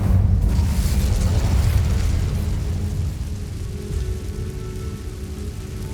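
Incendio fire spell cast in Hogwarts Legacy, a loud roaring burst of flame that swells at once and then settles into a sustained crackling rumble.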